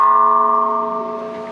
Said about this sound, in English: I'm gonna ring the bell so we can go in here.